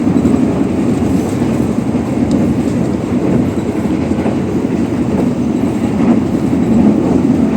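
A passenger train runs steadily along the rails past Kelari station, its wheels rumbling and clacking at close range in a continuous, loud roar with no talking.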